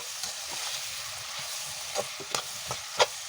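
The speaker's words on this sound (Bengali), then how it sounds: "এই মশলাটা ভালো করে পাকাতে হবে।" Masala with turmeric fries in a pan while being stirred, a quiet steady sizzle broken by several sharp scrapes and taps of the spatula.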